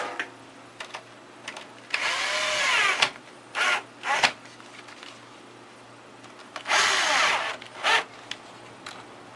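A power drill drives screws into a printer frame in short whirring bursts, two longer runs and several quick pulses separated by quiet pauses, close and clear.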